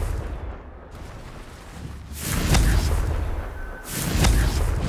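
Two Confringo spell blasts go off in the video game Hogwarts Legacy, one after the other, each a loud, deep, rumbling explosion. A quieter lull comes before them.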